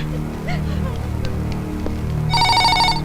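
Telephone ringing in an office, a bright electronic ring bursting in near the end after a quiet stretch of room noise and small clatters, loud and close.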